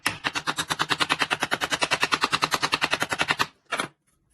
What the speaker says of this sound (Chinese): 下锤子。